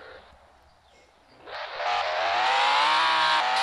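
A supercar engine in the Roblox game Driving Empire, Huracan-like, starts low, then roars up into a loud, rising rev with a bright whine that holds to the end.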